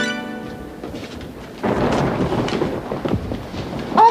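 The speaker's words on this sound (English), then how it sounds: "Much more of this rain, we could have trouble." A thunderstorm with heavy rain, a low rumble building into a loud, sustained wash of rainfall and thunder with gusty wind noise, no voices.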